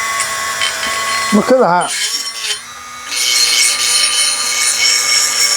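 Dremel rotary tool with a cutting wheel working on a vintage adjustable wrench during restoration, a whining motor pitch sweeping up and down, then a steady loud high buzz as the wheel cuts, with a brief spoken remark.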